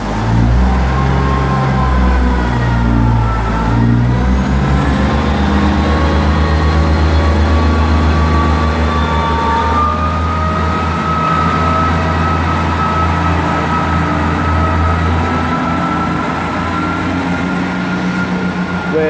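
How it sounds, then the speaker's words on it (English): An East Midlands passenger train, a class 158 diesel unit, pulls away from Liverpool South Parkway, its engine droning loudly and steadily as it accelerates, with rising tonal whine and rail rumble close by. "departing now is going to be the 1919 East Midlands train service to Liverpool Lime Street"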